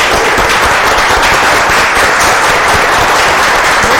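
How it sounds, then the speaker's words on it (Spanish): Dense, loud applause from a debate audience, continuous clapping filling the whole stretch without breaks. "Un fuerte aplauso,"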